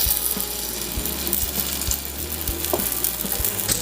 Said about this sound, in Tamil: ஒவ்வொரு குழிலையும் கொஞ்சம் கொஞ்சமாக மாவு எடுத்து ஊற்றிக்கலாம்.